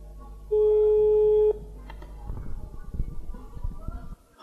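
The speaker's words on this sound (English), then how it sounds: "Answer the damn phone." A telephone tone rings once as a single steady electronic beep on a call that goes unanswered, followed by muffled rustling and handling noise.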